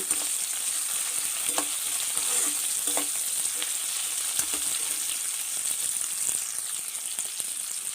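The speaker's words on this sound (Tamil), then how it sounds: "வெங்காயம் நல்லா பொன்னிறமாக வைக்கலாங்க" Onions with curry leaves fry in a pan for chicken dalcha, giving a steady close sizzle with a few sharp pops and crackles and occasional stirring scrapes, and no speech.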